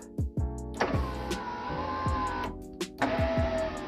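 Power window motor on a Nissan S14 240SX driver's door running up and down, a steady whirring hum with sharp clunks as the glass stops and reverses, close and clear with no voices.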